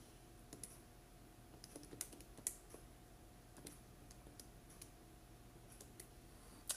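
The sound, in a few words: typing on a calculator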